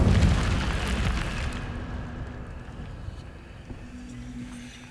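Incendio fire spell cast in the Hogwarts Legacy video game: a loud whooshing burst of flame at the start that fades over a few seconds into a low rumbling tail.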